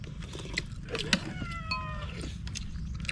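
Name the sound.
cat meowing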